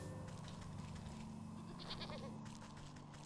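Goats bleat faintly in the Wytchwood video game, a few soft wavering cries over a steady ambient game background.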